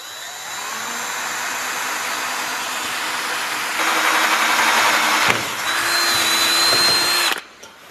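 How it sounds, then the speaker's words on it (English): A power drill bores holes through steel angle iron, close and loud, with a long steady whine that rises in pitch partway through, briefly dips, then spins on before cutting off abruptly at the end. "I'm just going to do that by drilling some holes and putting in some bolts."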